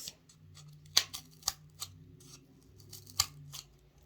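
Scissors snip slots into scrap coaster material, a few sharp close clicks and cuts spaced irregularly in a quiet room.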